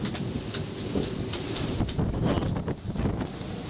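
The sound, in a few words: strong wind gusting on a sailboat during a squall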